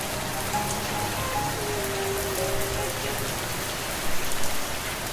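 Steady rain falls and patters on surfaces throughout, a dense continuous hiss with no voices.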